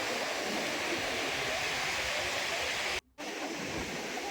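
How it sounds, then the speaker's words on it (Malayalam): Rough sea surf breaking on a beach makes a steady, loud broadband roar that fills the whole stretch, with a brief near-silent cut just past the three-second mark before the wash resumes. "കടൽ അങ്ങനെ ശാന്തമല്ല"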